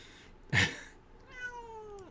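A cat meows once, loud and close, followed by a longer, drawn-out meow that slowly falls in pitch, with no other sounds around it.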